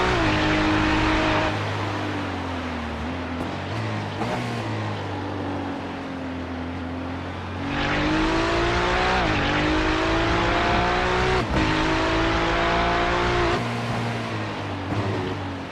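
A race car in the iRacing simulator at Daytona drives through an endurance race, its engine droning and revving steadily, then dipping as it brakes and climbing again on acceleration, loud and continuous.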